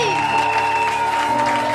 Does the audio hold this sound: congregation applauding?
yes